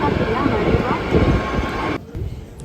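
A tram on the Tateyama Kurobe Alpine Route out of Toyama, Japan, runs with a loud, steady rolling rumble that drops away abruptly near the end.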